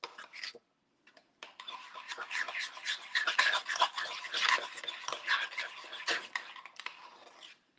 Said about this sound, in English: Mix it together and microwave it.